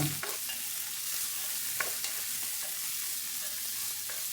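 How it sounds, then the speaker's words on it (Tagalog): Onions and tomatoes frying in a pan, with a steady low sizzle and scattered light clinks and scrapes of a utensil stirring, fairly quiet throughout and with no voices. "Pag namoy nyo ng luto na yung sibuyas, ilagay na ninyo yung inyong kamatis."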